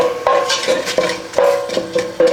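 Chopped onions for pasta sauce sautéed in a pan, heard as a series of distinct utensil scrapes and knocks against the pan at an uneven rhythm, close, over a light sizzle.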